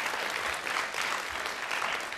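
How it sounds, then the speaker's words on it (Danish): A studio audience applauds loudly and steadily throughout a TV interview, the clapping dense and sustained with slight swells. "klapper de?"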